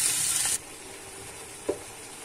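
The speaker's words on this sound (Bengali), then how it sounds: "এটা একটু লাল করে মিষ্টি কুমড়াগুলো দিয়ে দিব" Pumpkin pieces frying in a pan with a touch of turmeric and salt: a brisk hiss of sizzling for half a second, then a lower steady fry with one short clack of a utensil.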